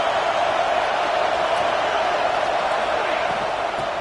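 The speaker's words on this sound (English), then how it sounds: "It's early, but this crowd is fired up. Listen to this noise here." A football stadium crowd at a Miami versus Georgia game roars in a loud, continuous wash of cheering that stays dense and steady throughout, with no distinct voices standing out.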